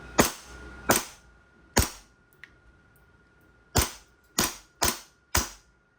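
A WE Hi-Capa 5.1 gas blowback airsoft pistol fires seven sharp, close shots, each with a snapping steel slide kick; three come in quick succession, then a pause, then four more in a steady rhythm.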